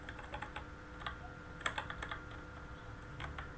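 Keys clatter on a computer keyboard as a pip install command is typed, a quick irregular run of close, crisp taps with brief pauses between bursts.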